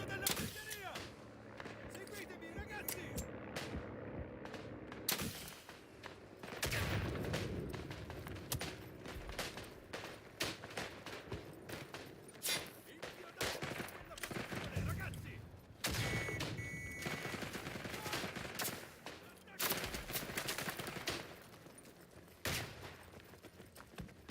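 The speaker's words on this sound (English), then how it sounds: "Alternatively, I can just put the artillery down." Heavy artillery barrage in the World War I video game Isonzo, dense overlapping booms and rolling blasts with gunfire crackle throughout, loud and continuous, with occasional voice beneath.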